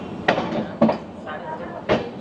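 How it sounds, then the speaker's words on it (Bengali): The Lalkuan Express runs on the rails, its rumble under a speaking voice, with three sharp knocks from the wheels at irregular intervals. "আমাদের ট্রেন এখন কাশি ক্রস করছে"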